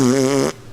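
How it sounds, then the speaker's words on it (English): A single short fart sound effect played from a soundboard in a podcast studio, a loud buzzy tone lasting about half a second before cutting off abruptly. "I only have one fart sound on my soundboard here."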